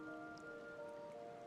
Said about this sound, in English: Oh, the soft rain.